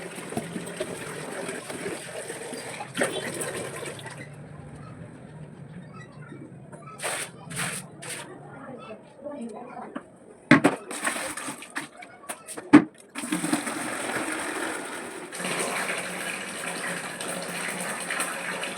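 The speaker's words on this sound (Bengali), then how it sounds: "মোটর চালাবো দিয়ে জল ধরবো, খাবার জল ধরবো" Electric water pump motor filling drinking water, a steady hum with the rush of running water, broken mid-way by a quieter stretch of clicks and knocks before the flow returns at full strength; a voice speaks at times.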